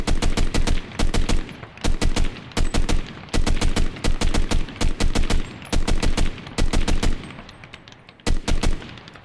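Short bursts of submachine gun fire from the video game Enlisted, loud and close, rapid shots grouped into repeated bursts with brief gaps between them.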